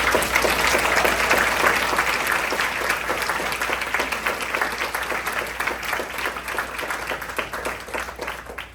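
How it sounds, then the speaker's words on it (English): A crowd at a hospital grand opening applauding, dense sustained clapping that starts strong and gradually thins out toward the end. "Can we please have a round of applause for these amazing people?"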